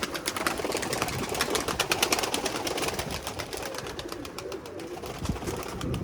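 Pigeons coo steadily outdoors on a stormy day, soft repeated throaty calls with occasional wing flutters and wind in the background.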